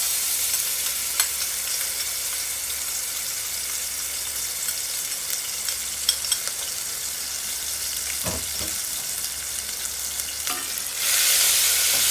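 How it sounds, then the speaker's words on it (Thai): A steady, loud sizzle of chicken frying in a little hot oil in a pot runs throughout, with a few scraping stirs and a brief clatter near the end. "คั่วไก่เนาะ"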